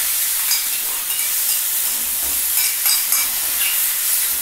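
Chicken frying and being stirred in a pan for mixed chowmein, a steady close sizzle with scraping stir strokes every half second or so, and no talk.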